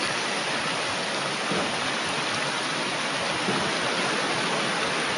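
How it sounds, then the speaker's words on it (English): Steady, close rushing of light rain's runoff pouring and splashing continuously as a road's water funnels down, a dense broadband wash in Sihanoukville, Cambodia, with no voices. "All the water from this road's funneling down here."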